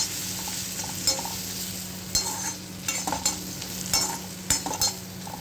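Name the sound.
chicken pieces frying in butter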